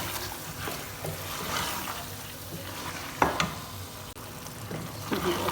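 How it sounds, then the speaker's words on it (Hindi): Mashed boiled tinda is stirred into fried mutton in a hot pan, a steady sizzle with wet scraping and squelching strokes and occasional sharp clinks of a spoon, heard close without talk. "इसके बाद इसके अंदर हम ऐड कर देंगे बॉईल किए हुए टिंडे, जिन्हें हमने मैश भी कर लिया। साथ ही इसको हम मिक्स करेंगे।"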